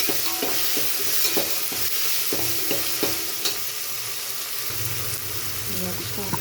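Curry leaves, onion and tomato fry in a pan with a constant sizzle, stirred by a spoon that scrapes and taps in a quick rhythm, and the texture shifts near the end as more ingredients go in.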